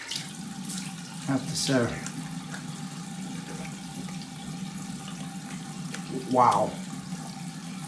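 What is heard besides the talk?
tap running to flush hot water through the line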